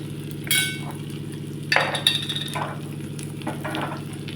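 Dried red chilies fry in hot oil for a dal fry tadka over a high gas flame, giving a close, crackling sizzle with a few sharp spatter bursts and light utensil clinks over a steady low hum.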